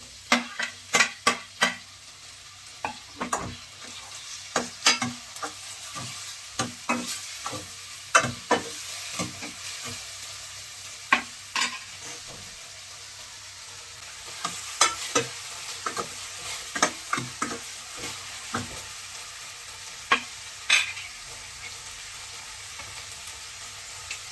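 Onions and tomatoes frying in a pan for Gujarati-style spinach dal, with repeated sharp spatula scrapes and stirring clicks over a faint steady sizzle, close up and with no talking.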